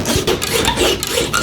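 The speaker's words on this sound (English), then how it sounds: "I'm sawing this off" A saw rasps through a Porsche body panel with quick, harsh back-and-forth strokes, loud and close, repeating in an uneven rhythm.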